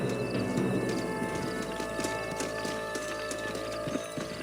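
Horse hooves clip-clop steadily in the Western video game Red Dead Redemption, a continuous rhythmic patter of several horses at moderate distance over a busy game soundscape, with no speech.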